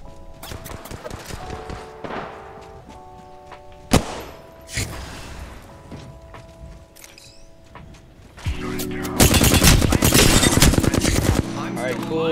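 Apex Legends gameplay with rapid automatic gunfire in bursts, sharp single shots, and a long dense stretch of continuous firing near the end, loud and up front amid game effects.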